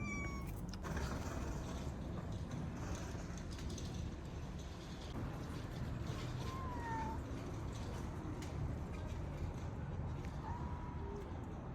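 Cats meowing outdoors in a warm place, several short, faint meows scattered over steady background hum and distant traffic, with no talking.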